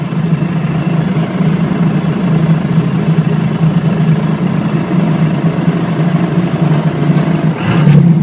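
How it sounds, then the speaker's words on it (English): A diesel truck engine labours up a big hill under heavy load, a loud, steady low drone that holds constant before a brief swell near the end. "Truck just pulling."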